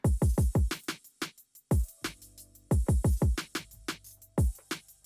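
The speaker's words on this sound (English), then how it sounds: "with the drums all together, it sounds like this" An EDM/trap beat with kick, snare and hi-hats playing together, punchy rhythmic hits over a low sustained bass tone, heard alone without talk at moderate volume.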